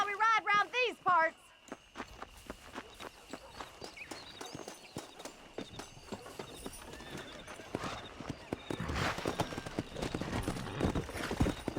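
Horse hooves clip-clop steadily while riding in Red Dead Redemption, a dense run of sharp hoofbeats growing louder and busier toward the end, with a brief whinny at the start.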